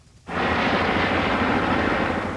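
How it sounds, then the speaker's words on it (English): A sudden, steady, loud roar of aircraft fills the air above a celebrity wedding ceremony, a dense mechanical drone from many helicopters and a rigged ultralight circling overhead, with no voices. "14 helicopters and a specially rigged ultralight aircraft circled and circled directly over the ceremony"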